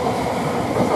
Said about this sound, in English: Liverpool Street to Ipswich, is now just departing